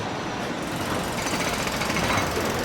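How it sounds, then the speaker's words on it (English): Loud, continuous jackhammer pounding inside the farming game Farming Simulator 25, a dense rapid hammering that runs steadily throughout with no speech over it. "That's a jackhammer."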